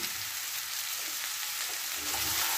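Hotdog and vegetables fry together in a pan, giving a steady, even sizzle that is close but fairly soft, with no voices.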